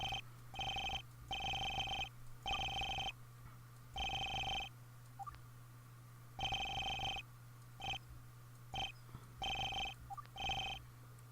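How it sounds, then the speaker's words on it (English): Phone ringing in the Major\Minor video game, an electronic trilling ring in repeated short bursts with brief gaps, over a low steady hum, fairly quiet and without speech. "If I can even think of responding, my phone rings."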